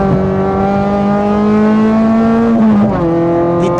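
A Renault Clio 1.8 16V with a naturally aspirated engine revs loud and close, a sustained climbing engine note that drops briefly near the end before pulling again, with no talk.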